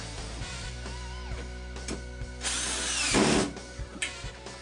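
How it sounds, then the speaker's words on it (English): Power drill driving wood screws to mount a carrier rail, with a ratcheting clutch chatter; close, loud whirring bursts and a longer rising drive near the end, no talk. "As you hear that ratchet, it means you are good."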